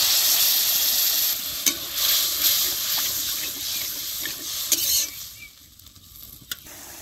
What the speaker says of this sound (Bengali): এখন আমি মশলার জল দিয়ে দিব।